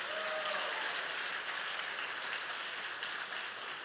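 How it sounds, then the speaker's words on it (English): An audience applauds after a taiko drum demonstration, a steady wash of many hands clapping that holds evenly throughout at moderate loudness. "Round of applause for everyone"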